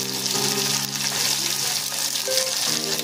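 A pan frying with oil and turmeric gives a loud, steady close sizzle, continuous hiss throughout with faint tonal hum underneath.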